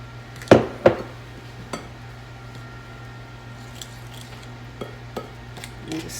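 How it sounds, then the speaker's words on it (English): A spoon stirs buttermilk into Jiffy cornbread batter in a bowl, giving two sharp clinks at the start followed by sparse, softer taps and scrapes, close by and without any talking. "And just stir that up a little bit until it's combined."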